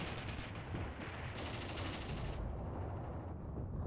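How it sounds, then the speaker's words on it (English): Maxim machine gun fire in the WWI-era game Mius Front, a dense, continuous rattle of rapid shots that sounds loud and persistent, with heavy battlefield gunfire layered around it and no talking. "This whole formation is now being engaged by a machine gun, which is quite persistent in its firing as well"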